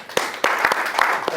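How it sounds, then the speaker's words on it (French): An audience at a one-man-show press conference applauds the stage director: a burst of fairly close, uneven clapping with sharp individual claps standing out. "merci de l'applaudir"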